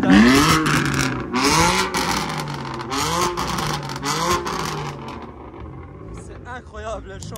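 A BMW M2 revs hard during a parade lap at the Spa circuit, engine notes rising and falling in repeated sweeps amid crowd noise and other cars, with people talking over it before it fades out.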